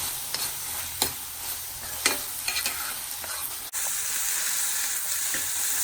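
Onion and turmeric gravy base sautéing in a pan, a steady sizzle broken by a few sharp scrapes of stirring, then the frying hiss swelling louder and more continuous partway through; no talking.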